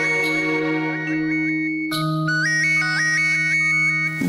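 A phone ringtone plays a repeating electronic melody over a sustained low tone, loud and close, with no voices.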